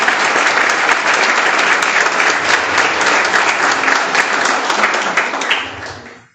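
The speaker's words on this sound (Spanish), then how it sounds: "Mario de Reyes, ingeniero Mario de Reyes, aplauso para él." Loud, sustained applause from a crowd, steady for several seconds before quickly fading out.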